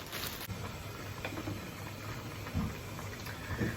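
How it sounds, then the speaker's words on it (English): Homemade vegetable soup simmers in a saucepan with a soft, steady bubbling and faint pops, quiet and close, with no talk. "I've got the saucepan on with the soup starting to cook down"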